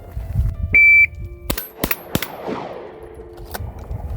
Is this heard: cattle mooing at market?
no